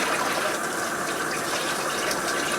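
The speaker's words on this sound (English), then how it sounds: "Lid rinsed off." A lid is rinsed under a running kitchen tap, a loud, steady rush of gushing water splashing close by for the whole stretch, with no voices over it.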